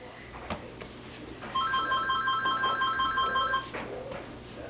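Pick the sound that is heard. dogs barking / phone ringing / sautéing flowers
phone ringing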